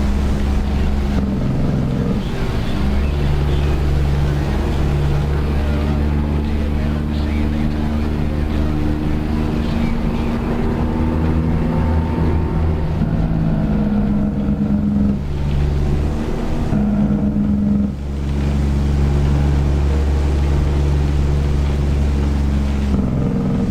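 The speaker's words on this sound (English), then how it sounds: "Kenworth has a Detroit in it." A stock 12.7-liter Detroit Series 60 diesel in a Kenworth truck in American Truck Simulator drones steadily and loudly with a low, even rumble that briefly dips and then resumes, and a voice speaks faintly over it.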